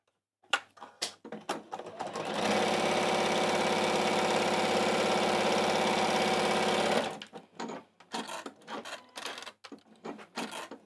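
A sewing machine runs in one steady, loud stretch of about four and a half seconds while stitching straight across the bottom of a quilted piece with lining. Short clicks and handling noises come before and after it.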